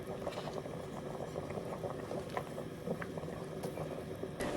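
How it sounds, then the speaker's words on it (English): Pasta simmering in a pot of boiling water, a steady dense bubbling and patter that stays close and even throughout, with no talk over it. "Now I'm going to cook this pasta till it's slightly al dente."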